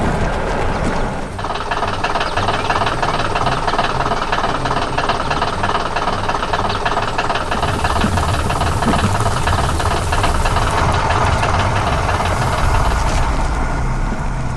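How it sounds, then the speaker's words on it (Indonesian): A yellow excavator's engine works hard while digging soil, a loud, steady mechanical roar with rattling, clanking tracks and metal parts running continuously throughout. "Terdengar suara mesin yang bekerja keras"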